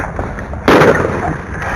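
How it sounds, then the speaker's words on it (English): A single revolver gunshot fired by a reserve deputy during a police arrest in news footage, a sharp loud burst partway through over steady background noise. "Reserve Deputy Bob Bates might have meant to pull his taser, but fired his revolver, shooting Eric Harris in the back."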